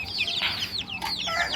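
Laying hens and young chicks on a rooftop farm, with high, quick chick peeps and chirps overlapping close by in a busy, continuous chorus and no talking.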